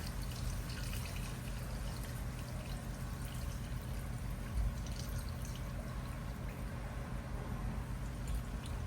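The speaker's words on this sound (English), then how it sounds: "Going in here now with my coconut milk." Coconut milk pours into a pot of Hassa curry in a steady, faint liquid stream that lasts several seconds, with no talk.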